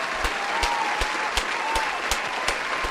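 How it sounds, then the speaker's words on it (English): A small group applauds at the close of a podcast, steady clapping running throughout with a few sharper individual claps standing out at regular intervals. "Let's give a round of applause to everybody."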